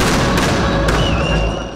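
Fireworks go off at a Christmas tree lighting ceremony in Bethlehem, heard as a dense crackling burst with a couple of sharper pops over a steady crowd-like roar.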